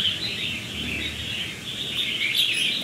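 A crested bulbul, a Lao-bred songbird with a large crest, sings in clear chirping phrases close by, with a steady high warbling tone running throughout and no speech.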